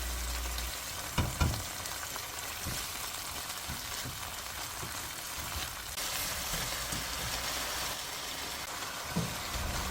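Squid hitting a hot pan of scallion oil and stir-frying, a loud continuous sizzle with a few clanks and stirring knocks scattered throughout.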